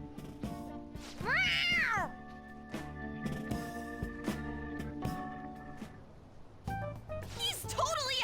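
A cartoonish cat meows twice in the video game Persona 5 Royal, a drawn-out rising-falling meow early and a shorter one at the end, over game music and voices.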